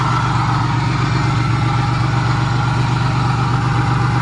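A van engine that had been hydrolocked, idling after repair: a steady, loud, close mechanical drone with a low rumbling hum that holds constant throughout.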